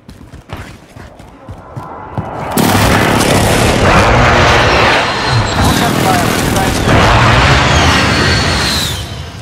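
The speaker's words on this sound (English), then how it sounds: "Enemy precision airstrike. Take cover." Precision airstrike explosions on Rebirth Island in Call of Duty Warzone erupt as a loud, sustained roar of rolling booms after a rising rumble, swelling twice before fading slightly.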